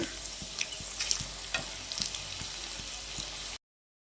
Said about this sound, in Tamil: நம்ம இப்போ பொரிச்சு எடுத்துக்கலாம்